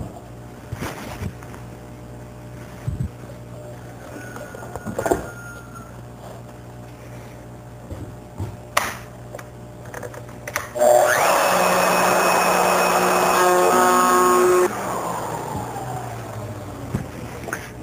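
Router bit excavating a wooden bowl blank: quiet clicks and shuffling, then a loud steady whirring cut of a few seconds that stops abruptly and spins down.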